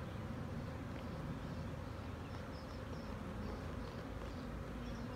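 A large swarm of honeybees in a pine tree gives a dense, continuous buzzing hum, steady and close, with scattered individual bees zipping past and no speech.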